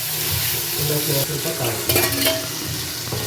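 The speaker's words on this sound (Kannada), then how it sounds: "ಚಕ್ಕೆ ಲವಂಗ ಸೋಂಪು ಮತ್ತು ಏಲಕ್ಕಿ ಅಲ್ವಾ ಓಕೆ ಅದ್ರ ಜೊತೆ ಹಾಕ್ಕೊಂಡು ಫ್ರೈ ಮಾಡ್ಕೊಬೇಕು" Whole cinnamon, cloves, fennel seeds and cardamom frying in hot oil, with a steady close sizzle and the scrape of stirring throughout and no talking.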